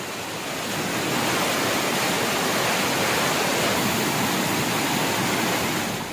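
Kumbakkarai waterfall near Periyakulam in Theni roars as a constant, dense broadband rush of falling water, loud and unbroken, swelling slightly after the first second.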